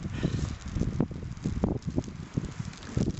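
Gusty outdoor wind near a Cairngorms bothy, buffeting the microphone in uneven low rumbling pulses with faint rustling, steady and close throughout.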